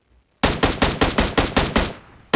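Automatic gunfire in the video game PUBG Mobile comes as a rapid burst of about eight loud, evenly spaced shots, near and alone, followed by one more shot.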